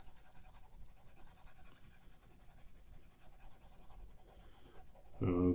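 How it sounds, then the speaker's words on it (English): Erasing handwritten numbers from a board during a math lesson: soft, faint, continuous rubbing and scratching strokes, ending with a sudden louder knock or thud. "Erase this one."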